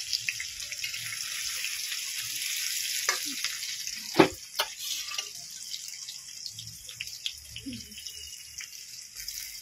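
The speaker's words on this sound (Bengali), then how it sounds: "আর কড়াইতে তেল এবং ফোড়ন এবং সঙ্গে পেঁয়াজ দিয়ে খুব সুন্দর করে নাড়াচাড়া করে নেব।" Onions with whole spices fry in oil in a wok while being stirred. A moderate hiss runs throughout, punctuated by sharp spoon clatters against the pan, one especially loud knock midway. No speech.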